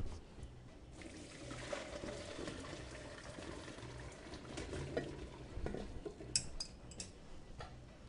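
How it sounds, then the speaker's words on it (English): Boiled potatoes being drained in a home kitchen: a steady watery rush and trickle, fairly faint and continuous, with small clinks near the end and no talking. "Now we're going to drain the potatoes."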